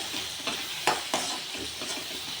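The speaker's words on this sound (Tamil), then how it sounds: "கொஞ்சம் இஞ்சி பூண்டு போட்டு நல்லா எண்ணெயிலே வதக்கிட்டு நம்ம அரைச்சி வச்சுக்கிற பேஸ்ட் எடுத்து இதில் ஊற்றி கொஞ்சம் லைட்டாக வதக்கலாம்" Ground paste sautés with ginger and garlic in hot oil, a close, moderately quiet sizzle punctuated by a few quick stirring scrapes.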